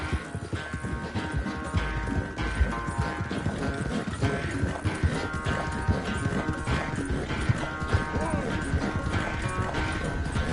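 Horse hooves clip-clop steadily in Red Dead Redemption 2, a continuous trotting rhythm under game music and ambience, with a voice talking over it.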